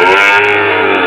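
A cow at a cattle market in Tuban, East Java lets out one loud, close, sustained moo that fills the short moment on its own.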